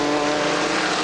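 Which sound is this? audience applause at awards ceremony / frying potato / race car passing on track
race car passing on track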